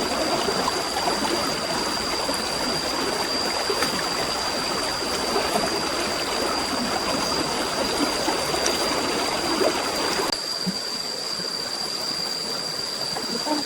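A rocky forest stream full of snails rushes steadily nearby, a loud continuous wash of flowing water with a faint high whine above it and no speech.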